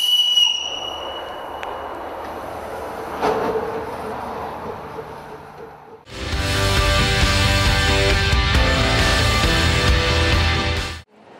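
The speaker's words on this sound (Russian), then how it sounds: "Кроме паровоза у Павла есть вагончики, мотовоз и механическая дрезина." A small tourist steam locomotive pulling little railway cars, first a high whistle and faint rolling, then a loud close pass of clattering wheels and rumbling cars lasting several seconds before cutting off.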